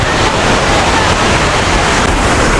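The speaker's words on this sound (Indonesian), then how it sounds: "Udah kedengeran belum suara air terjunnya?" Curug Sawer waterfall in Sukabumi, a steady, loud broadband roar of rushing, crashing water with no breaks, close and enveloping.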